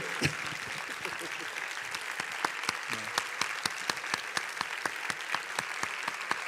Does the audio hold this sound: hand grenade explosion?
no